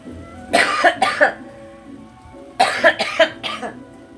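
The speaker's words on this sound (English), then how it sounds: "Still the COVID cough coming out of me." Two bursts of harsh, forceful coughing from a woman with a lingering COVID cough, a pair of coughs then a longer cluster of three or four, close and loud with a short quiet gap between.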